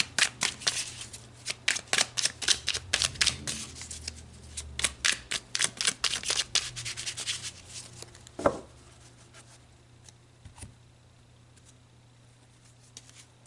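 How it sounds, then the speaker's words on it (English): Tarot cards are shuffled by hand in a rapid run of close riffling flicks, then a few cards are pulled and set down with isolated soft snaps as the sound fades to quiet room tone over a low hum. "let's pull some more cards"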